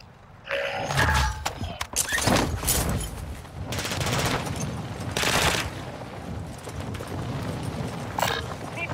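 Rapid bursts of video game gunfire crackle in dense volleys, loud and close with several sharp clusters and brief pauses between them, and no talking over the shooting.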